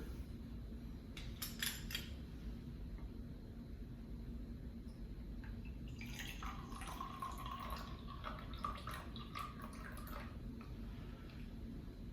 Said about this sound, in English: I'm going to put a bit of water into this beaker